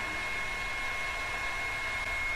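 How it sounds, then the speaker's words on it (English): A steady, even blowing rush of air with a constant motor whine from a hair dryer drying layers of jelly paint, running unbroken throughout at moderate level. "It needed some assistance in the form of the hairdryer"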